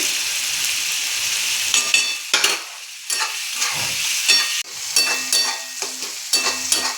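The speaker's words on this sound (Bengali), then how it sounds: "সবজিগুলো সব ভাজা ভাজা হয়ে গেছে" Vegetables for pasta sizzle and crackle steadily in a hot pan, with intermittent scraping and stirring clatter over the continuous frying hiss.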